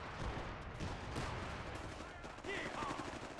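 Gunfire in the Company of Heroes World War II strategy game, a dense, steady barrage of rifle and machine-gun shots with distant explosions, fairly loud and continuous, with a brief radio-style unit voice line.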